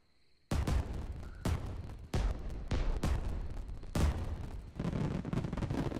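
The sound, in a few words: fireworks in VR game Vistascapes VR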